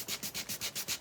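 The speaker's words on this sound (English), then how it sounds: "I'm gonna rough this up with the sanding block." A sanding block rubs back and forth over shiny metal in quick, even strokes, about eight soft scratchy passes in a second, close and fairly quiet.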